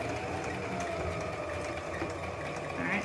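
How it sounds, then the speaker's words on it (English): A sewing machine runs steadily along a seam on a child's hat, a continuous close mechanical whir that holds even throughout with no talking. "So I'm just gonna start sewing there."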